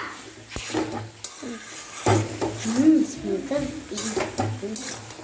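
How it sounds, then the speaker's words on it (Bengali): Curry of tomato, ginger, green chili and ground cumin being sautéed in a pan, with scattered clinks and scrapes of a utensil against the cookware, a soft sizzle beneath, and a person talking over it. "মশলা দিয়ে দিয়েছি টমেটো আদা কাঁচা লঙ্কা আর একটু জিরে মানে জিরের গুঁড়ো আর কি দিয়ে কষাচ্ছি"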